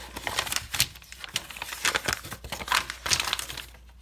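Paper is folded and creased by hand into a paper claw, giving close, irregular crinkling and rustling with sharp crisp snaps, alone without talk.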